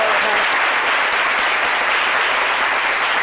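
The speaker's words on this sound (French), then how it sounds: "je vous demande d'applaudir très très fort" Audience applause from a crowd at a live event, a dense steady wash of clapping that stays loud and even from start to finish with no voices on top.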